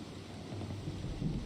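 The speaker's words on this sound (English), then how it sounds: "not a smart idea to sail through the storm" Video-game thunderstorm heard while sailing a ship through it: a steady, dense wash of rain with low rumbling thunder throughout, no voices.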